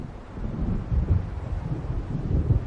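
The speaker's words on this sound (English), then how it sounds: "It seems there's a storm coming." Stormy wind and rolling thunder in the Alan Wake Remastered game by a lakeside at night, a loud low rumble with gusting buffets that swell and fade in waves.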